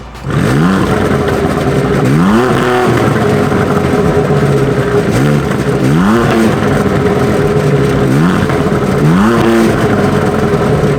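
A loud BMW M2 CS with Akrapovič exhausts revs repeatedly, rising and falling in a series of throaty bursts close by.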